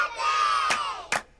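A crowd of children at a Chuck E. Cheese birthday party shouting "Birthday!" together in one loud, sustained cry, followed by a couple of sharp claps as it fades.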